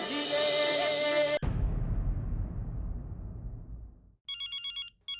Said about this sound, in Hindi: घड़ीवाली जी का फोन है।